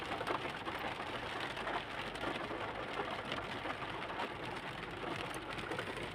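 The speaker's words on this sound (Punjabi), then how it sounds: "ਚੰਗੀ ਬਾਰਿਸ਼ ਹੋ ਰਹੀ ਹੈ" Steady, dense rainfall in Saudi Arabia pattering continuously on a surface, close and fairly loud with no voices, a constant wash of drops throughout.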